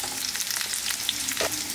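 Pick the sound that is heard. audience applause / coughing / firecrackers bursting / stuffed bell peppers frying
stuffed bell peppers frying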